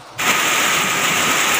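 Heavy rain starts abruptly and then pours steadily onto the ground, a loud, dense hiss that stays constant to the end with no voices over it.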